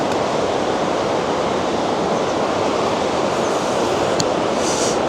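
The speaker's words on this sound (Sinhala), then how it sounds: "වතුර තියෙන හොඳට ගඟේ" A river in Japan runs high with snowmelt, making a loud, steady rush of water that fills the scene without a break and with no voices.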